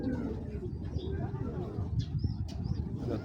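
A male Bagha pigeon coos in low, repeated murmurs close by, with faint chirps and background noise around it.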